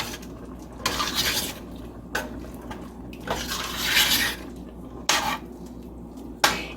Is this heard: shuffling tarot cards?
no